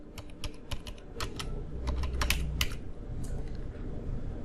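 Rapid typing on a computer keyboard while filling in a Google Form, with close, crisp key clicks in quick irregular bursts and no voices.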